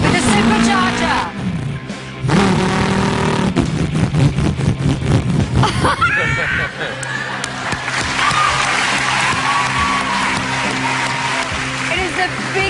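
A human voice imitates a supercharged Shelby car engine with loud, close revving bursts and rising whines, then a sustained engine-like drone, while crowd noise and cheering come in during the second half.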